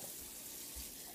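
Water from a tap runs into a cup with a soft, continuous hissing rush, faint and steady, with nothing else heard.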